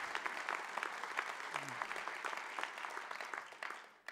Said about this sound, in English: This is where people should be applauding your name.